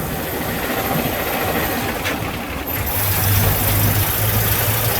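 An old truck with no synchros, its engine droning steadily up close inside the rattly, rusty cab while the driver double-clutches into third gear, with the engine note shifting midway.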